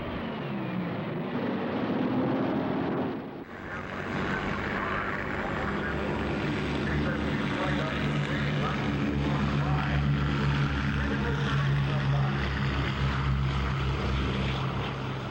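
Steady droning propeller engines of a Boeing B-17 bomber, loud and continuous, rising after a brief dip early on.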